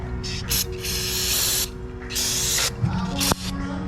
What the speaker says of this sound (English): Spray it down a little bit.